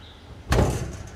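A steel storage cabinet door with a magnetic catch swings shut with a single solid thump and brief rattle, then quiet.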